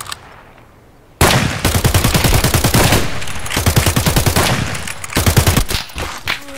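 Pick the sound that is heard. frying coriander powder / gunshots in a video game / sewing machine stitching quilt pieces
gunshots in a video game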